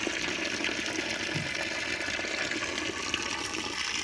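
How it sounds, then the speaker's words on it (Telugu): Water streams onto a concrete column under construction for curing, soaking into the soil at its base, a constant rushing flow like a flush that is close and unbroken throughout. "ఇలా వాటర్ పడుతూ ఉంటే మట్టి అంతా లోపలికి పోతుంది."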